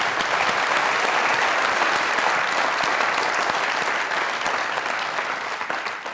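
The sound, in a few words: audience applause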